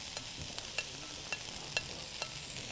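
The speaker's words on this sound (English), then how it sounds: "The stir fry is coming out nice." Peppers and green onions stir-fry with a soft steady sizzle, while a utensil clicks against the pan in a loose rhythm of light, evenly spaced taps.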